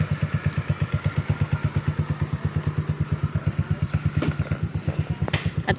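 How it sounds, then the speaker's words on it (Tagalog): A motorcycle engine runs steadily close by, its regular low thumping pulses repeating evenly throughout, with a faint clatter and a brief higher noise near the end. "At pwede na po tayong sumakay sa motor na pabalusok kasi naayos na po yung brake ni Papa Beats."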